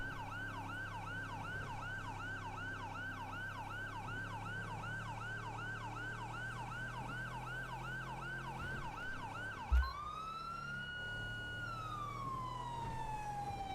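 A police siren in the video game GTA V wails in a rapid, repeating yelp over a low engine hum, then switches to a long, slow falling wail after a brief thump.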